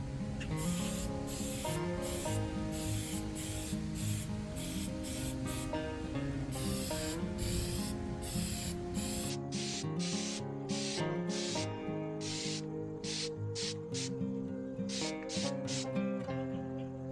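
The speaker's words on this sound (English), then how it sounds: "I like to concentrate spraying these first to get good coverage, and then come back and finish on the flat faces" A spray gun coats Bronco parts outdoors in a slight breeze, giving a steady, loud hiss that runs without a break, with a mechanical buzzing tone underneath and rhythmic pulses as the passes sweep back and forth.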